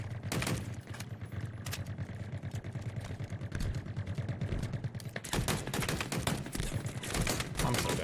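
Rapid rocket blasts and gunfire in Halo Infinite multiplayer crackle in dense, continuous volleys, a sharper burst of impacts arriving near the end.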